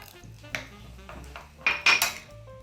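Egusi is stirred into water in a bowl, a spoon clinking and scraping against the bowl in a few close, sharp knocks with softer swishing between them.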